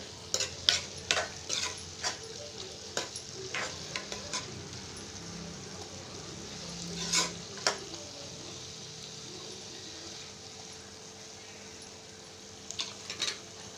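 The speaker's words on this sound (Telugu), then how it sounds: "మంచిగా అన్నీ కలిసినట్టు కలుపుకోవాలి" A spoon scrapes and clinks against a pan in repeated strokes while a curry with salt and chilli powder sizzles softly underneath; no voices.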